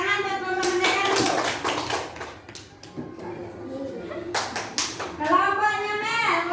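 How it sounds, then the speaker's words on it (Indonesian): Children in a classroom clap for a group, with bursts of applause broken by a quieter gap, mixed with kids' voices and a teacher speaking. "Tepuk tangan buat kelompok Merdeka dulu."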